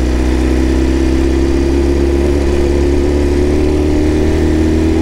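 BMW S1000RR sport motorcycle engine running close by, a loud steady idle hum with a slight rise in pitch partway through and no pauses.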